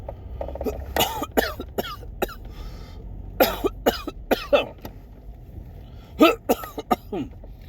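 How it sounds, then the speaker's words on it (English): Several harsh coughs in short bursts, close and loud, separated by brief pauses, with a final pair of coughs near the end. "this cough has gotten really worse since I came back from China"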